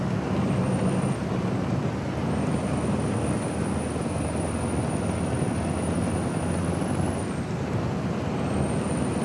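Loud, steady engine drone of a Mack R Series truck in American Truck Simulator, a broadband rumble that holds constant for the whole stretch with a faint high whine running over it and no voices.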